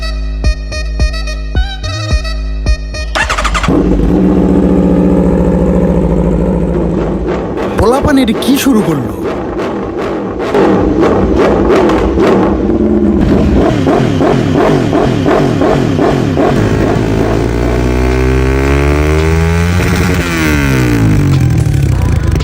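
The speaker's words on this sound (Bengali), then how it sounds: "এক্সজাস্টের সাউন্ডটা দেখাই" A motorcycle exhaust roars and revs hard after a few sharp starting pops, its pitch sweeping up and down repeatedly at close range, loud and continuous, while people talk and shout over it.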